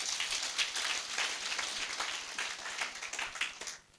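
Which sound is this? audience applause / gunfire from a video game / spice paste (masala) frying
audience applause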